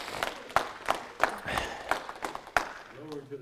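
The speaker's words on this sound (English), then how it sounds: "Give the Lord a hand clap of praise and sit down." A church congregation claps in praise, a handful of sharp, fairly quiet hand claps at a loose, uneven rhythm, with a voice starting to speak at the end.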